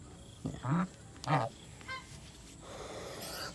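Farm geese honk up close, several loud calls in the first two seconds and one shorter honk after, then only rustling background noise with no talking.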